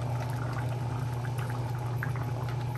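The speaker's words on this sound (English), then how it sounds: "Also gonna add a little bit more water." Water poured into a pot of Jamaican pigtail stew peas, a steady continuous pouring and bubbling wash of liquid with a low hum underneath, no talking.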